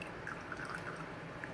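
Classic green tea pours and drips from a teapot, a soft steady liquid hiss with faint drip-like plinks scattered through it, low level and close.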